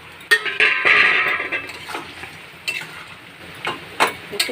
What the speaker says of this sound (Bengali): এবার মাছগুলো দেবো, মাছগুলো দিয়ে আবার একটু ফোটাবো।